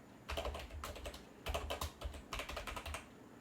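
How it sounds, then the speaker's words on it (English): Fingers type on a computer keyboard during late-night Python coding, a fast irregular clatter of keystrokes in bursts, quiet and close, with no talk. "my hand is pressing wrong buttons in the keyboard"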